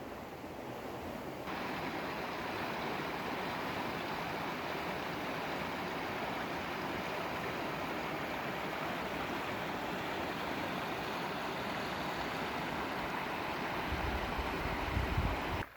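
A forest brook beside a log on a hiking trail flows steadily, a constant, fairly close rushing wash of water with no pauses and no voices over it.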